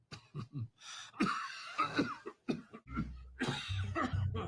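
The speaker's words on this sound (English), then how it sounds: "That is a real cough." A character in the TV show The White Lotus coughs repeatedly, harsh hacking bursts and throat clearing broken up by breaths, with a voice murmuring between the coughs.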